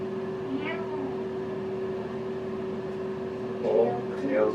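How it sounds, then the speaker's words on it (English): A cat being cleaned up after getting wet gives a few short meows over a steady hum of room noise, with a louder meow near the end. "Meow. Meow, it's okay, it's okay. We're gonna clean you up, Mosa."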